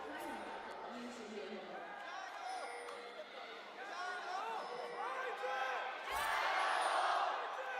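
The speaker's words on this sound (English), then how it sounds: "I'll let the crowds yell a little bit before we continue that conversation." An arena crowd at the LPL League of Legends playoffs, IG versus FPX, yells and chants in loud, sustained rising waves, with voices surging and swelling throughout.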